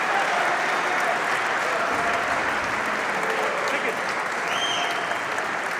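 A squash tournament crowd applauds steadily, a dense continuous wash of clapping filling the venue throughout, with faint commentary voices underneath.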